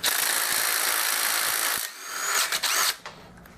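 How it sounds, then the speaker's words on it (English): A DeWalt 20-volt cordless impact gun whirs loudly and steadily at close range while working on a racing mower engine teardown, then stops and gives a few shorter bursts. "By the way, this gun is a DeWalt 20 volt."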